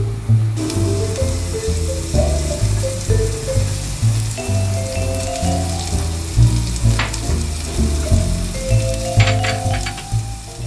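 Spices fry in a hot wok, a loud sizzle running the whole time, punctuated by the scrape and clatter of stirring and occasional bright clinks.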